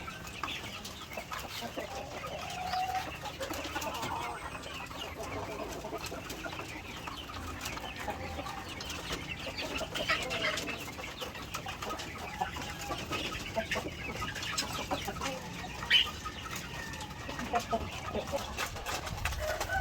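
White Leghorn chickens cluck softly in a flock amid steady barnyard noise, the scattered calls faint and overlapping throughout.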